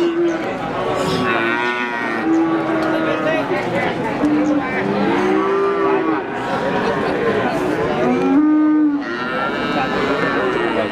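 Cattle and calves low repeatedly at a busy village cattle market in Margorejo, Pati, several moos rising and falling over a steady crowd murmur and chatter.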